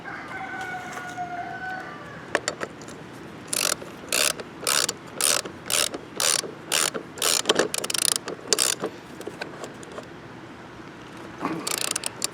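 Ratcheting clicks from a wrench tightening the nut on a self-propelled lawn mower's drive wheel, heard as a steady series of about a dozen sharp bursts in quick rhythm, close and fairly loud, followed by a few scattered clicks.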